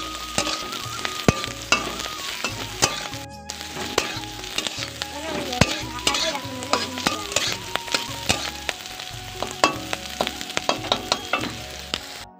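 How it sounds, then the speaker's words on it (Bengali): Beans fry in a wok with a steady crackling sizzle. Metal spatula scrapes and clinks repeat as the food is stirred, close and continuous, with no voices. "এখন আমি বিম কড়াইটা ভেজে নিচ্ছি।"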